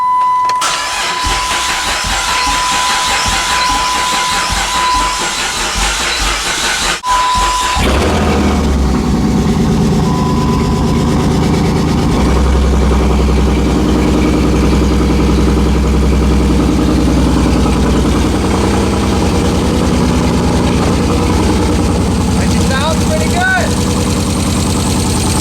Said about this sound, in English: So we're gonna crank it over, get some oil pressure.